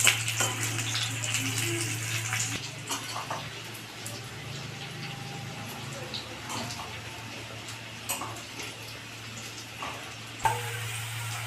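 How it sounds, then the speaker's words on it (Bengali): Boiled potatoes frying in oil in a pan, giving a steady, moderate sizzle with scattered pops and occasional scraping clicks, alone without any talk. "এবার আমি তেলের মধ্যে এগুলোকে ভেজে নেব।"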